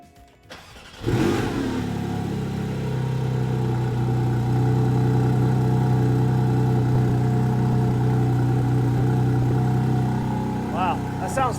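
A Porsche Spyder RS engine catches and settles into a loud, steady idle after a brief start-up burst, the sound staying near and constant throughout.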